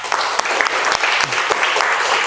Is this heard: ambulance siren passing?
no